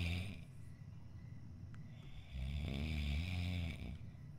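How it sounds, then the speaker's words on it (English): Snoring in the horror video game Pamali, a low rumbling breath swelling louder midway through and then easing off, with no talk over it. "Am I the one making that snoring sound?"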